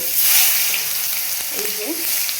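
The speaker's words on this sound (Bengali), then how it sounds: "দেখো এবার দিয়ে দেবো হচ্ছে কাঁচা টমেটো।" Raw tomato dropped into hot oil with black cumin for a Bihari-style fish curry, giving a short, close, hissing sizzle that spikes briefly and then settles to a steady fry.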